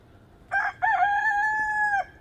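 A rooster in a riverside village on the Donggang River in Yeongwol, South Korea, gives one clear crow, a short opening note followed by a long held call, fairly close against a quiet background.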